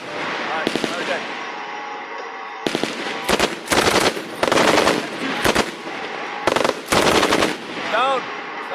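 Super SAW machine gun firing repeated bursts, loud rapid volleys of close shots separated by short pauses, with a person talking faintly between them.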